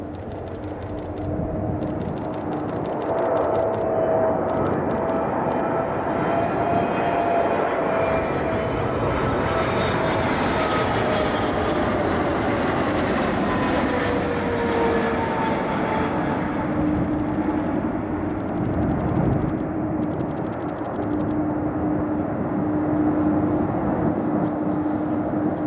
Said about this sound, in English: Boeing 777.